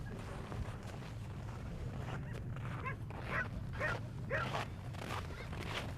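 A rescue dog at an international rescue dog competition gives soft whimpers and short yips over a steady low background hum, the sounds moderately close but not loud.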